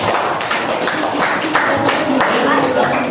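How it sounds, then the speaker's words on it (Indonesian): A classroom of students claps together for a group of classmates, a dense patter of hand claps mixed with taps and thumps, loud and close, with chatter from the students running underneath. "Boleh tepuk tangan untuk kelompok 2."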